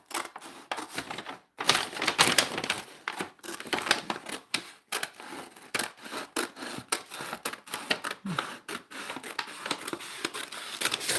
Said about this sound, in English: I'm going to cut this here on this seam